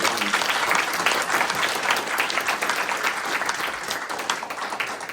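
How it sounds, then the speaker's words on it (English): An audience at a US–Taiwan startup conference gives a panel of founders a round of applause, dense, full clapping from many hands filling the room steadily throughout. "can I ask everyone to give this brave group of panelists a round of applause for their vulnerability?"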